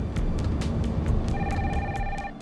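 Telephone ringing, a short burst of bright trilling ring over a dense background hiss, close and fairly loud, with no one talking.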